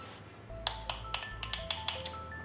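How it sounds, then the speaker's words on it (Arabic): Rapid series of sharp clicking taps with faint tonal beeps, like a telephone crackling or ringing electronically, over a low steady hum in a quiet room. "ايه الصوت ده؟ معرفش، يمكن خرفش التليفون."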